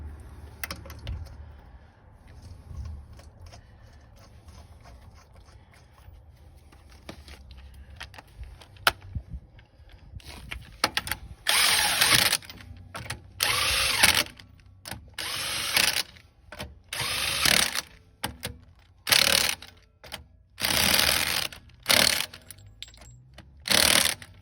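A power tool with a vortex socket set runs in repeated short bursts, whirring loud and close as it drives rear suspension bolts on a Montego T16 Turbo car, after quieter clinking and handling.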